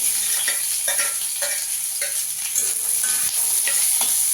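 Onion and garlic fry with dried chillies in hot oil, giving a steady close sizzle broken by a few soft stirring scrapes and light clinks throughout, with no talking.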